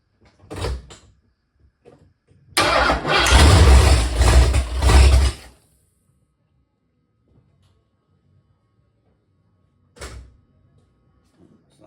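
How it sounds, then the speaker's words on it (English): A 347 stroker V8 in a 1976 Mercury Monarch cranks and briefly catches for about three seconds, loud and rough, then cuts out, with short clunks before and after. "Sounds like it's starting to run."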